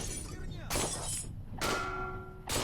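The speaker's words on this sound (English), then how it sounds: "the guards opened fire, smashing my windows." Train windows shatter under the guards' gunfire in a video game, a sequence of sharp glass-breaking crashes roughly every second, loud and close.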